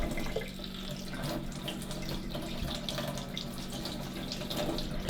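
Warm tap water runs steadily through the water inlet filter of a Karcher K4 Premium pressure washer, giving a close, continuous splashing and gushing with no voices.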